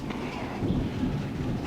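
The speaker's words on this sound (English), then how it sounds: "Because it's raining." A dense rush of rain falls continuously with a low rumbling wash underneath, steady and fairly loud, with no one speaking.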